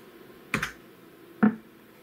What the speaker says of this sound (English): I hit type in select disk 4